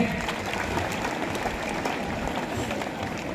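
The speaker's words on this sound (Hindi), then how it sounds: "एक और बार उनके लिए जोरदार तालियां बजा दीजिए" An audience claps at a school Independence Day celebration, a steady faint wash of applause heard from a distance with no break.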